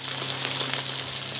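Fish sizzling steadily in hot oil for a Bengali recipe, a dense, continuous close frying hiss without pause.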